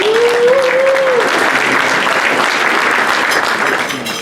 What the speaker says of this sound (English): I was looking at which judges clapped harder